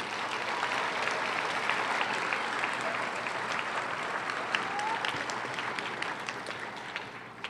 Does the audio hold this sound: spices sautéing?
no